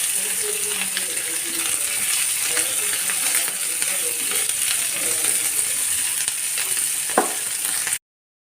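Curry leaves, mustard seeds and chana dal sauté in hot oil, giving a steady close crackling sizzle with occasional stirring clinks and a sharp tap near the end before it cuts off.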